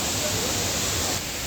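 Neer waterfall in Uttarakhand gives a steady, close, broadband rush of falling water that holds constant throughout, with no voices over it.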